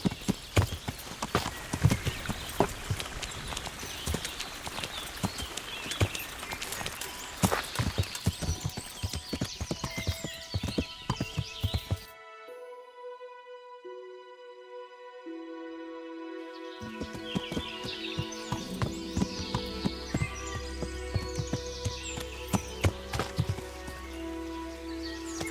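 Horse hooves clip-clop in a steady rhythm in the medieval video game Kingdom Come: Deliverance, alongside rain-like patter. A whinny rings out mid-way between two spells of hoofbeats, close and clear.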